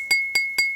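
An empty glass struck three times in quick succession gives clear, high, ringing clinks that sustain between hits, close and fairly loud without any voices.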